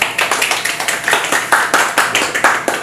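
A church congregation at a Tuesday prayer meeting claps in welcome, a quick run of even, crisp hand claps close by with no talk.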